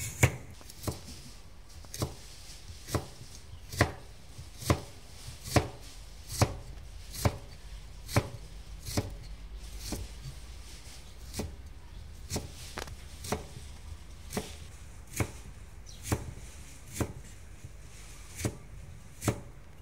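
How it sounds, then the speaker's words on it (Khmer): A knife chops carrots into thin, small slices for a Khmer dish, giving steady, evenly spaced sharp taps on a board, quiet and close, with roughly two dozen cuts and no talking. "ការ៉ុតក៏យើងហាន់ចំណិតស្តើងស្តើងតូចតូចដូចគ្នា"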